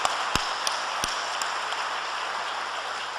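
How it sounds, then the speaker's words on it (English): An audience at a Public Bank event applauds Dr. Victor Tan, a dense, even wash of many hands clapping at a distance, with a few sharper claps standing out early. "can we all give him a round of applause?"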